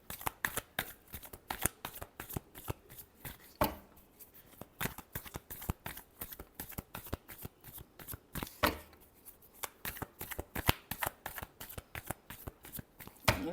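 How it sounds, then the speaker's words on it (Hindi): A deck of tarot cards is shuffled by hand in a long, close series of crisp riffling bursts and soft slaps in an uneven rhythm, with no talking over it. "Last shuffle."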